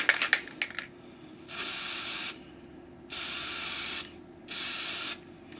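A few quick clicks and rattles, then three bursts of rubber coating spray hissing from a can onto a plastic phone battery case, each lasting about a second with short pauses between.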